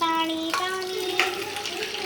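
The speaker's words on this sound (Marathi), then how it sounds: "पाणी सुरू केलं," Tap water runs into a bowl set out for a paint craft, a steady hiss filling the whole short stretch while a voice sounds over it.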